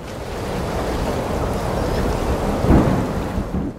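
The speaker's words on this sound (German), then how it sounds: "Es begann zu regnen und zu stürmen." Heavy rain in a storm pours down as a steady, dense roar, with a low rumble of thunder swelling near the end; no voices.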